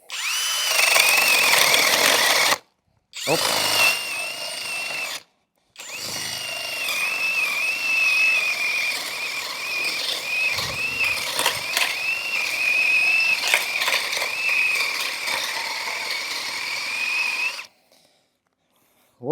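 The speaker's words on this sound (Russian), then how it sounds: "поэтому 50-кой будем сверлить данную колодку" DEVETECH CIS 120 cordless drill with a spade bit boring into a wooden block outdoors, whining loudly in three bursts separated by brief stops, the last and longest run steady with slight pitch wobble as the bit bites.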